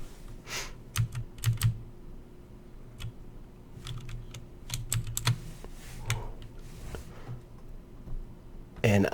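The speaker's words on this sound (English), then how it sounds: "I'm actually holding down Shift and using the arrow keys to push it down" Computer keyboard keys are pressed while editing in Photoshop, giving irregular clusters of sharp clicks and short bursts of tapping, close and fairly clear, with quiet talk between them.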